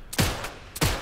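Gunfire in the stealth shooter Sniper Elite 5, two loud sharp shots about half a second apart with a lighter crack between them, heard with no talk over it.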